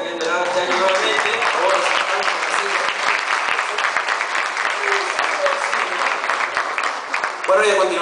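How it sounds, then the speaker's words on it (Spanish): Sustained applause from a crowd at a medical school tuna music night fills the space, dense and steady, with a voice heard at the start and again as the clapping fades. "Un aplauso para ellos, por favor"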